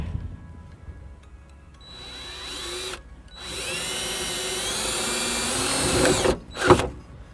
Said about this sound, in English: I'll take the self-tapping screw and ground off the grounding wire to the side here